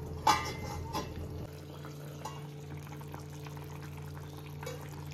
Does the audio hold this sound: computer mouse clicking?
no